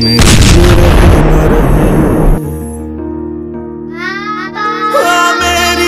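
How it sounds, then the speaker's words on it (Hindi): A bomb explosion bursts loudly right at the start, and a heavy rumbling roar fills about two seconds before it drops away into a quieter, sustained tonal sound. "अब ये बम फटने वाला है"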